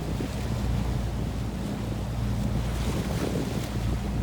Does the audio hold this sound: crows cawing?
no